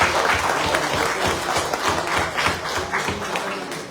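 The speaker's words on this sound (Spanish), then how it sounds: "Pues vamos a dar un aplauso fuerte" An audience at a seminar applauds steadily and fairly close, dense clapping continuing evenly for several seconds with no speech over it.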